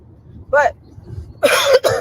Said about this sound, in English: only reason I'm coughing like this because y'all know how I cough